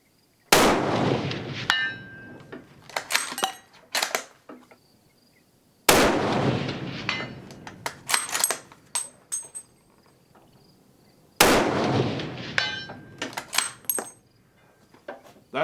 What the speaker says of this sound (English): 3 shots, 300 yards, ping, ping, ping, no problem.